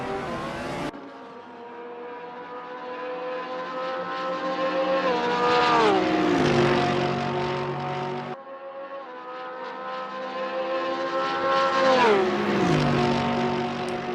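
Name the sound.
Porsche race car driving through corners in a racing video game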